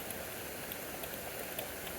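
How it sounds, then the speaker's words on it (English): Rain pours down during a severe thunderstorm with small hail, a steady dense hiss of drops on surfaces with faint scattered patters, heard alone and fairly close. "we needed this soaking downpour"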